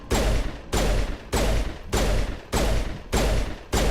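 Gun in the video game Mass Effect firing in six rapid bursts, each a sharp, loud blast of rounds with a short gap before the next, evenly spaced and close.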